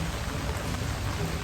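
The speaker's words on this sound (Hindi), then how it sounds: "बारिश हो रही है" Steady rain falls at Ajmer Fort, a dense, even hiss of drops hitting surfaces close by with no talking over it.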